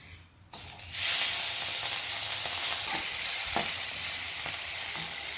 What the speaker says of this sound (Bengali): মাছটা ভাজার জন্য তেল দিয়ে দিলাম